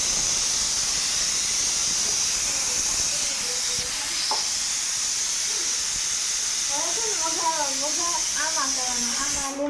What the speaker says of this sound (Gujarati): આપણી દાળ ઉકળે છે